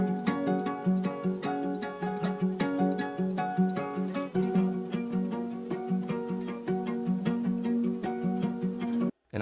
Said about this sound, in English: here's my nylon string guitar that comes in the second half